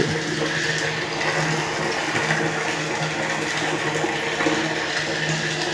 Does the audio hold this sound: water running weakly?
yes